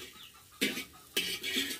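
A chicken in a rural village clucks in a few short, fairly quiet bursts at close range, with no talking.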